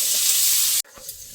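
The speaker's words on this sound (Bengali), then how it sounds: "একদিকে মাছের ঝোলের জন্য টমেটো আর আলু ভেজে নিচ্ছি" Tomatoes and potatoes fry in a wok for fish curry, giving a loud, steady sizzle that cuts off abruptly and leaves quieter kitchen noise.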